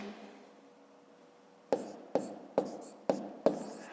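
A pen writing the number 476 on paper during a long-division exercise, five crisp taps and short strokes in quick succession, close and quiet after a faint hum.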